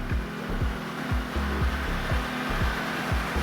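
An ECOVACS DEEBOT T10+ and a Roborock S7+ robot vacuum mopping, giving a steady whirring hum with a regular pulsing beat repeating about twice a second, close and continuous.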